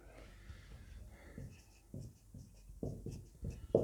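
A pen writes out the next step of study notes during a lesson, making short, close scratching bursts in an uneven rhythm that grow louder toward the end, with no talking.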